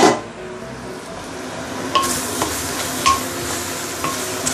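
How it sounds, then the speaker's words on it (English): Chow mein noodles in dark soy sauce cook in a pan, a constant close sizzle and bubbling with a few sharp clicks and taps of a utensil against the pan, and nobody talks. "let it simmer for a minute or two"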